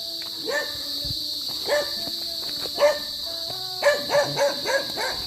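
A dog barks angrily in a rural area, a series of sharp, repeated barks in uneven bursts, loudest toward the end, over a steady high insect drone.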